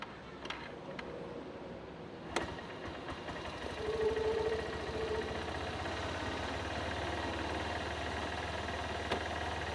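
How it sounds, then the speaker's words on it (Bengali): A Honda CB Hornet 160R motorcycle engine idles after a cold start, a steady low mechanical drone that holds throughout with a brief sharper knock early on and no talk. "এখন বাইকটা কোল্ড স্টার দিব তারপরে রওনা দিব"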